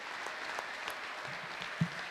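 Congregation applauding during a church service, a dense, steady patter of many hands clapping at moderate distance, sustained throughout with a faint voice underneath and one brief louder thump near the end.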